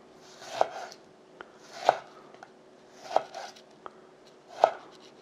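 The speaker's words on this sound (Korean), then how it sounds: "오징어가 기름기름하기 때문에 이것도 한 4cm나 5cm 정도 되게끔 이렇게 썰어주세요." Kitchen knife chopping squid into 4–5 cm pieces on a cutting board, four distinct sharp chops at an even, unhurried pace, close and clear with no talk.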